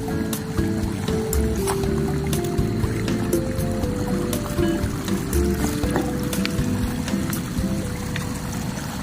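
Steady rushing and splashing of water as someone wades across the Gaula river near Haldwani, steadying themselves with a wooden stick; loud, continuous flow close by with no talking.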